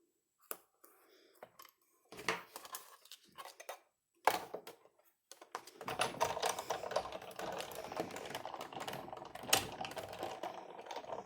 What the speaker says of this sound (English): Okay, that does it for the big shot.